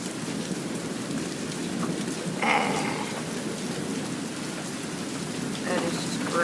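Steady rain pours through a stormy night, a dense broadband hiss with faint rumbles of thunder rolling underneath and a couple of brighter swells in the downpour.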